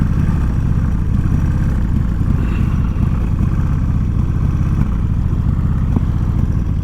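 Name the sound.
motorcycle engine running rough after sitting long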